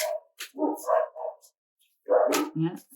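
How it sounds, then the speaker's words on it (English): Dogs bark indoors at home in a few short bursts, with a voice speaking briefly in between. "So if you guys can hear the barking, I apologize"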